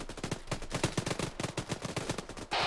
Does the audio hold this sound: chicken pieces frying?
no